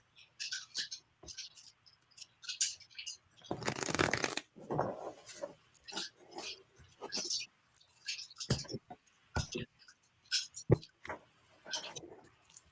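Tarot cards being shuffled in repeated short bursts of riffling and slapping, close up, with brief pauses between.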